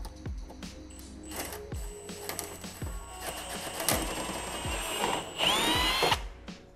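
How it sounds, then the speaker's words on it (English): A power drill bores holes in the front bumper of a 2015 Audi A3 during an aftermarket grille install, with short repeated whirring bursts and clicks at close range and a louder, sustained spell near the end, no talk. "We're gonna drill some holes, tighten it to the front bumper."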